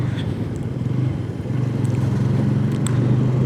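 A car rolls slowly along a regular road with a low, steady engine drone and rushing wind noise, continuous and close, no voices.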